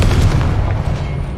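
A Confringo blasting spell going off in Hogwarts Legacy, a single heavy boom with a rumbling low burst that decays over about a second and a half, loud and close.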